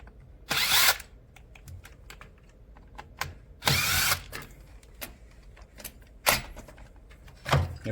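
A power drill spins out the drain-pump screws on an LG front-load washing machine in short, sharp whirring bursts, about four spaced runs with quieter clicks and handling noises between them.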